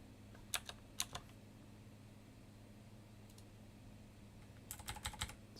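Keyboard typing during a game-development session: two short bursts of key clicks near the start and a quicker cluster of keystrokes at the end, fairly faint over a low steady hum from a fan or computer.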